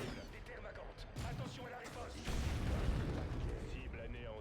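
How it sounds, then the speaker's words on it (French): Grenade blast in the video game Dawn of War 2: two heavy, muffled booms, each swelling into a sustained rumble over busy battle noise. "J'envoie cette grenade et ça..."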